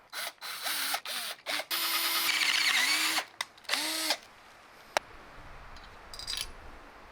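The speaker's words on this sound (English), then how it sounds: "now I need to make holes to fit the antenna" A power drill bores holes for an antenna mount on a Subaru Outback Wilderness, whining loudly and close in several short bursts, followed by one sustained run and then a sharp metallic clink as it falls quiet.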